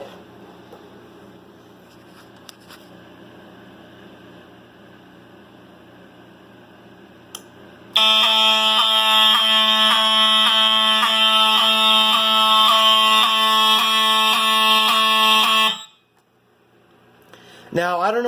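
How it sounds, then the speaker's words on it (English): An Edwards FireShield fire alarm panel sounds during a smoke detector test: after a quiet humming lead-in, a loud harsh buzzing horn tone blares steadily for about eight seconds, then cuts off abruptly, followed by a short voice. "we will give the smoke detector a quick test"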